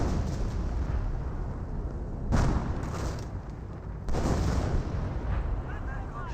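Booming 25-pounder artillery rounds in the strategy game Company of Heroes, with repeated heavy blasts and rumbling impacts, loud and close, under a commentator's voice.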